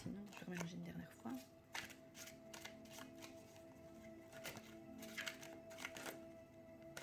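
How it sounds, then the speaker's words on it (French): Tarot cards being riffled and shuffled by hand, a busy run of papery flicks and soft slaps up close, over a low background hum. "je vais remélanger une dernière fois"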